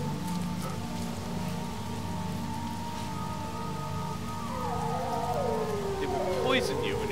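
Acid rain falling in the No Man's Sky video game, a steady broadband hiss running through the whole stretch with a low drone and shifting tonal sweeps beneath it, while a voice talks over it.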